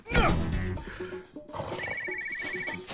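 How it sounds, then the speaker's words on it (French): A cartoon alert device rings with bright electronic trills, a burst at the start and then a steady repeated ringing tone with clatter and musical stabs around it. "j'avais déjà un appareil qui sonnait dès que je devais aller cogner un super vilain"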